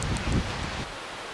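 Strong wind buffets the microphone in a steady roaring rush, with rustling gusts that ease slightly toward the end.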